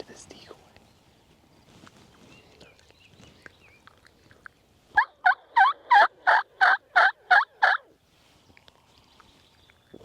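Wild turkeys gobble on a hillside during a Nebraska turkey hunt, a run of about eight loud, rhythmic calls following faint rustling and whispered talk.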